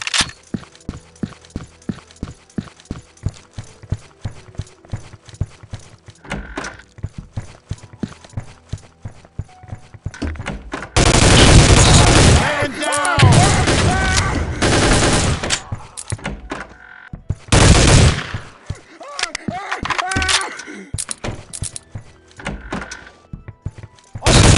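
Gunfire in the PC shooter Soldier of Fortune II: Double Helix: a run of sharp, evenly spaced shots gives way to loud, dense bursts of rapid fire with a few pauses, all close and without talk.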